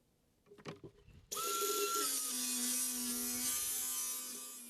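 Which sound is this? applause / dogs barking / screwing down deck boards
screwing down deck boards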